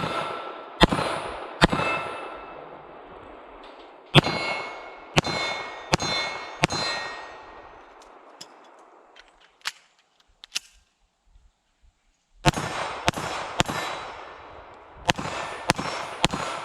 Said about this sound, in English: let's take our first shots with the LCP Max